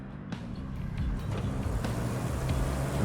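The pickup truck in RoadCraft drives along with a steady low engine drone that rises slightly in loudness, and no voices over it.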